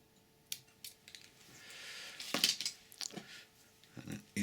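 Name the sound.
scissors cutting off craft material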